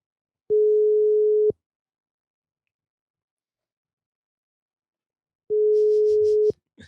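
An outgoing phone call rings on the caller's end: two long, even electronic ringback tones about four seconds apart, each lasting a second, with silence between and a faint murmur after the second.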